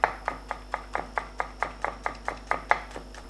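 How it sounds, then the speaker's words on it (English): A knife finely chops green onion for miso soup on a cutting board, about fourteen crisp, even strokes in a steady quick rhythm, close and distinct with a faint hum beneath. "All we need to do just finely chop"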